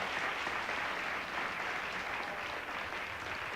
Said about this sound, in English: You're applauding that